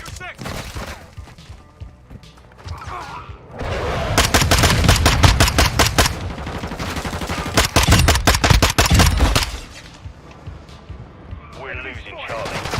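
Rapid automatic fire from an MP5 submachine gun, roller-delayed blowback with little recoil, in Modern Warfare 2 multiplayer: dense bursts of loud gunfire dominate the middle of the clip, with quieter shots and game sounds before and after.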